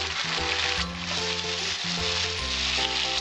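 Ginger paste and slit green chilies sizzle in hot oil for a light Bengali magur fish curry. The hiss is dense and continuous over a low, steady hum.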